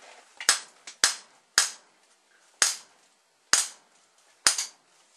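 A plastic hammer smacks a primer setup, and the primers pop in six sharp, loud cracks spaced irregularly, each fading quickly into quiet.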